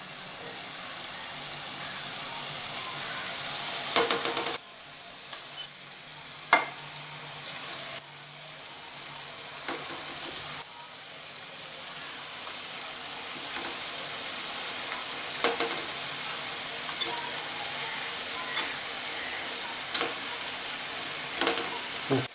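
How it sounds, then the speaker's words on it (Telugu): Fish pieces dropped one by one into a simmering tamarind gravy, a continuous soft sizzle and bubbling punctuated by occasional splashes and clicks, close and steady, with a voice speaking at times. "ఒకసారి సిమ్లో పెట్టి చేప ముక్కలు వేసుకుందాం"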